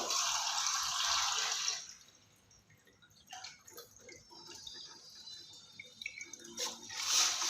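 Water is poured from a bowl into a cooking pot for making pitha, a brief steady splashing rush, then softer drips and trickles that are fairly quiet and close.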